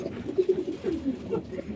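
Khaki pigeons cooing in a loft, a few soft, low rolling coos repeating close by over quiet background.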